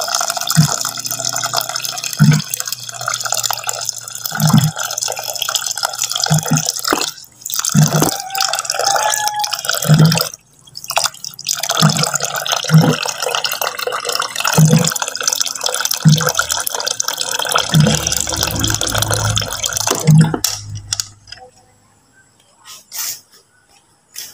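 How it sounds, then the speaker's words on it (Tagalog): Water poured and trickling in a kitchen while rice is washed, a steady running wash broken by repeated soft drips and splashes at fairly regular intervals, close and moderately loud, fading out near the end. "Ibang tubig ang hinuhugas namin, iba rin ang sinasabaw."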